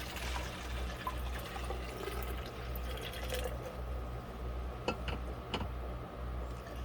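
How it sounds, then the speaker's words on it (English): Half a liter of water pours steadily into a plastic bottle close by, with a continuous gurgling trickle and a couple of light knocks near the end. "And I'm going to pour that in there."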